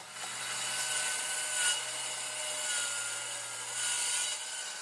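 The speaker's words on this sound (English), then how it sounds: "I could just cut that piece off with a track saw" A track saw cuts through a black walnut slab filled with epoxy, giving a steady, loud, whining rip that holds evenly for several seconds with a low motor hum beneath it and no talking.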